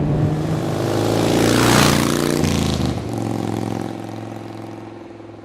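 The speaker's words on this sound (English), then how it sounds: "Today I'm riding the Kawasaki Z1000" A Kawasaki Z1000 motorcycle engine heard while riding, loud and close, rising to a strong revving peak then easing down to a steady drone with wind.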